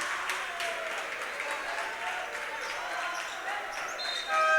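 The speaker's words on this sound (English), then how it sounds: "And the Ateneo crowd has been clapping and completely in support of their team right now." Ateneo supporters at a Philippine school basketball game clap and cheer from the stands, a constant loud crowd wash with sharp bursts, and squeaky shoe sounds from the court rising near the end.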